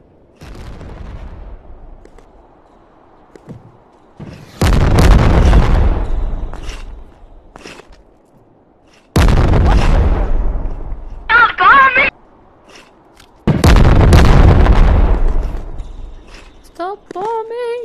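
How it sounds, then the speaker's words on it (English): Loud booming explosions in the video game Animal Company, three long heavy blasts spaced several seconds apart with rumbling tails, short bangs and brief voices between them. "Stop bombing!"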